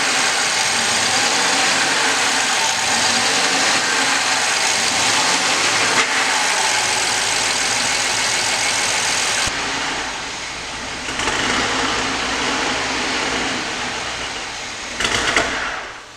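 A BMW E39 Touring engine runs after its first start, with freshly coated injectors, giving a steady close idle hum that drops in level partway through, then briefly revs and cuts off at the end.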